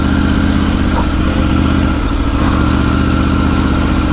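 Triumph Tiger 900 Rally adventure motorcycle ridden through Thar desert sand, its mid-pitched engine holding a steady, loud throttle with continuous close drone and faint mechanical clatter, no voices.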